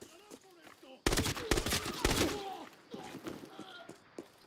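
Rapid bursts of AK rifle fire in a first-person shooter game crackle loudly after a quieter stretch, with several dense volleys clustered together and a voice speaking faintly between them.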